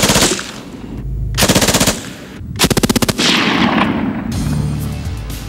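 A squad automatic weapon fires loud, close bursts on full auto, fed from a drum magazine holding a coiled belt, with rapid sharp reports separated by short pauses and echoing tails.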